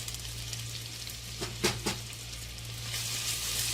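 Ginger and garlic fry in oil in a clay pot, giving a steady broadband sizzle with a low hum beneath it and a couple of brief stirring clinks near the middle. No one talks.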